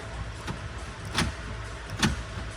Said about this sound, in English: the keyless entry on this truck, it does work.